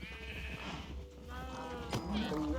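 Cows in the Minecraft video game give short, nasal, bleating moos, a couple of calls close by over a low background hum, with a person talking through part of it.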